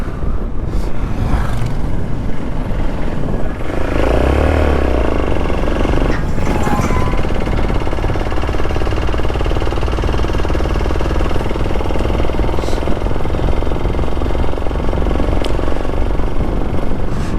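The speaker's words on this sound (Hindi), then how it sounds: "ये देखो भाई बाइकिंग ग्रुप चल रहा है भाई।" A group of motorcycles rides past on a mountain highway on the route toward Leh, a loud steady engine roar with a brief swell as they go by, heard alone without talk.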